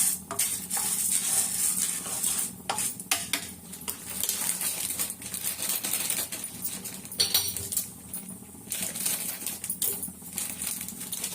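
Something frying in a pan while making a laddu sweet, heard as a soft crackling sizzle under repeated scraping and clinking of a metal spoon against the pan, fairly quiet throughout.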